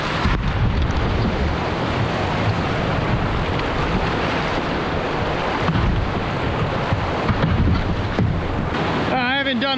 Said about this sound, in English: we got another set of rapids coming up right down here